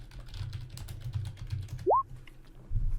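Computer keyboard typing in a heist-themed game session, a quick run of soft close keystrokes over a low hum, broken by a brief rising electronic chirp.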